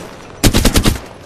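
A short, loud burst of automatic gunfire in a video game: about five rapid shots in under a second, with silence before and after.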